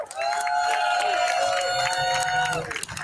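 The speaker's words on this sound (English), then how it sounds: "I want to give a huge round of applause to all the organizers who put this incredible event together" An outdoor crowd at a rally in Washington, DC applauds and cheers the event organizers, a loud, sustained roar of clapping and voices with a steady held tone ringing over it.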